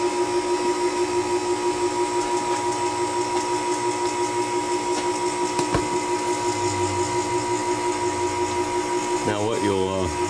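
A vacuum pump removing air from casting investment for a car emblem drones steadily with a constant mechanical whine and hum, loud and continuous, with a brief shifting whir near the end.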